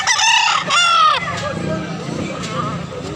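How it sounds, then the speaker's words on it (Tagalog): A black rooster crows loudly and close by, one long drawn-out call, followed by softer clucking and background noise from other fowl. "Manok."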